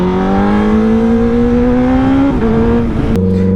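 A 2018 Honda CBR 1000RR sport bike engine revs hard and climbs steadily in pitch for about two seconds, then drops sharply through two quick gear changes while still pulling. It is loud and close, with no talking.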